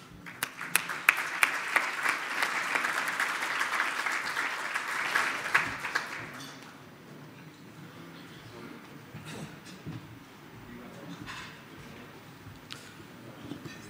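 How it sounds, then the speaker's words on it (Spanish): An audience applauds to welcome a speaker onto the stage at an economics conference in Santiago de Chile, with brisk clapping for about six seconds that then dies away into quiet room sound with a few scattered claps. "Por favor, recibámoslos con un fuerte aplauso."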